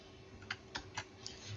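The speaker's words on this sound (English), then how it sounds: "hold the Alt key plus D on the keyboard" Alt plus D is pressed on a computer keyboard: about four quiet, crisp key clicks spaced irregularly over a soft background hum.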